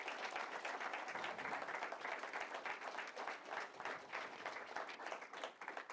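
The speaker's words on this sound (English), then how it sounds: "A round of applause, please." A lecture audience claps after the talk: sustained applause with distinct individual hand claps in a fairly quiet, distant-sounding room, continuing evenly for several seconds.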